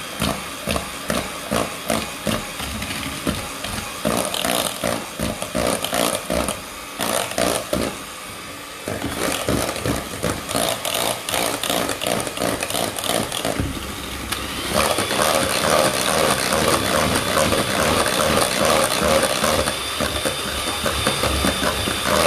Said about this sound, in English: So I'm going to beat these together and then start to mix in the flour.